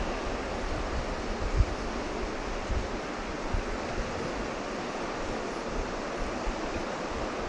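Ocean surf washing onto the beach at Shell Island, a steady broadband rush of waves with light wind buffeting the microphone and a few soft thumps.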